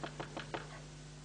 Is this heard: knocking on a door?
yes